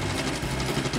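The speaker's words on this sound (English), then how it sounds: "A sewing machine! Just what I needed!" A sewing machine runs steadily at close range, giving a continuous busy whir with fast mechanical rattling throughout, no voices.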